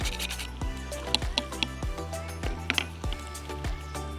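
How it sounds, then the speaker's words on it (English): Whole nutmeg grated over a pot while cooking outdoors in the wild: a steady run of rhythmic rasping strokes about twice a second, close and soft. "grind in some nutmeg, just a little bit, it's quite strong"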